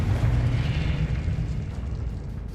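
A Confringo blasting spell in Hogwarts Legacy explodes in a loud, deep, rumbling boom that fades slowly over a couple of seconds, with no talk.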